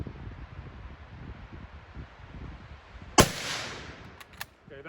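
A single sharp 6.5mm military rifle shot cracks loudly at a 12-inch steel target about 50 yards away on an outdoor range, with rustling and wind before it and a short decaying echo after.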